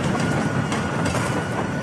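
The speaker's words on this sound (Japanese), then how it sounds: "電車。" A train passes in the video game L.A. Noire, a loud, continuous rumble with rhythmic clickety-clack of wheels on rails filling the whole short stretch.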